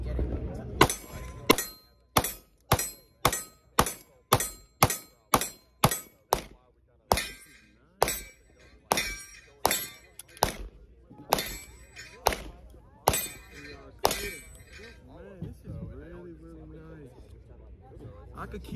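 Pistol rounds from a compact PDP striking steel targets at an outdoor industry range, a steady series of sharp metallic rings roughly every half second, then spaced shots with people talking faintly.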